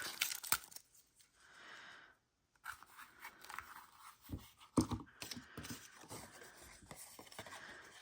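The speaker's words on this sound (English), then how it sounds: "Let's see if we can get that paper off." Paper is peeled and torn off pink lace in close, quiet bursts of ripping and crinkling, with brief pauses between pulls.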